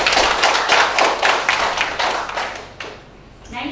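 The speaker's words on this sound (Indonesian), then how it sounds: "Beri aplaus." Applause from an audience at a doctoral promotion ceremony: dense, steady clapping from many hands for about three seconds, then tapering off as a voice begins speaking.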